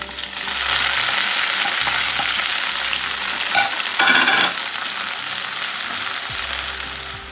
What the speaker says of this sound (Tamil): இப்போ நம்ம பச்சை மிளகா அதை ஆட் பண்ணிடலாம். அதோடு சேர்ந்து கொத்தமல்லி புதினா அதையும் ஆட் பண்ணிவிடுங்க உள்ளார.